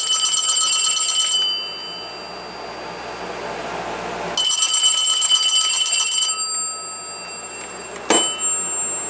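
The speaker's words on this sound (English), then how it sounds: "the Radio Shack 43175 mechanical bell ringer, which I've gotten from the Habitat for Humanity" A Radio Shack 43175 mechanical telephone bell ringer rings loudly and close in two long metallic bursts separated by a pause, followed by a brief clunk, with a steady background hum throughout.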